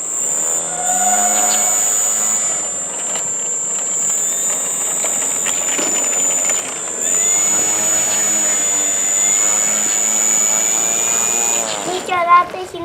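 An airplane engine runs close by with a steady high whine over a rough mechanical rumble. It stays continuous and loud throughout, then cuts off abruptly with a clatter at the end.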